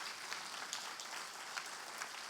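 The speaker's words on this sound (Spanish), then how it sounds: "vamos a darle un aplauso" Audience applause in a church service, a steady dense wash of clapping hands sustained evenly throughout with no voices over it.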